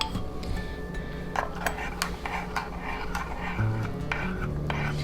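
Sugar and yeast being mixed in a bowl for pizza dough, with close, repeated spoon clinks and scrapes against the bowl and a faint murmur of voice underneath.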